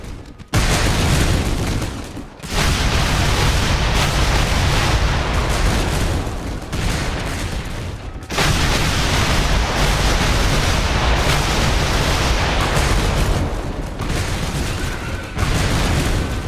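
Booming cannon artillery fire in a Gettysburg battle video game rolls on almost continuously with loud, dense blasts and brief gaps, heavy and close with no talk.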